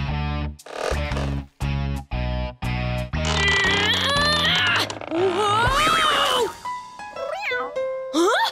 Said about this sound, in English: Fluffy, go away! Cats aren't allowed in Africa